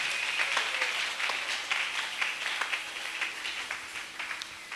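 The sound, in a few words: congregation applauding and cheering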